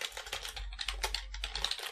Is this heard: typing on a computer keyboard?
yes